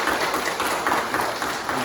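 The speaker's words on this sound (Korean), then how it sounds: "박수 우리 한번" A church congregation claps in welcome during a Sunday service, a brief, dense patter of many hands close and steady for under two seconds.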